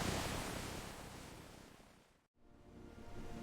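Ocean surf rolls in a continuous broadband wash that fades out briefly, drops to near silence, then swells back up, with no voices present.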